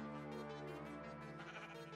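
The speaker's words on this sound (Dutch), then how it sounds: "Een mooi schaap." A sheep in the video game Minecraft gives a single drawn-out, wavering bleat, close and fairly quiet, heard alone without talk.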